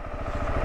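A KTM 690 Enduro R single-cylinder dual-sport motorcycle engine thrums steadily while riding, a low pulsing drone with wind noise, heard briefly and alone.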